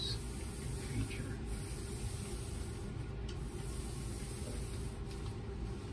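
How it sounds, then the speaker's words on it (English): A spray gun hisses steadily as a non-slip finish is applied to the bottom of a bathtub during tub and tile reglazing, a constant close broadband spray noise lasting throughout with a faint voice underneath. "We are now going to apply a non-slip finish to the bottom of the tub."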